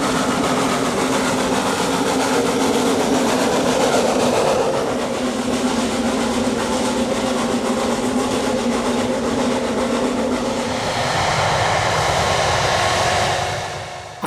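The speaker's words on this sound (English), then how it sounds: "The morning is spent watching the Mountain Railway locomotives beginning their thunderous slog towards the clouds" Steam locomotives of the Mountain Railway at Llanberis, Wales, slog uphill in a loud, continuous rumbling chug that holds steady and then eases slightly at the end, with no talk.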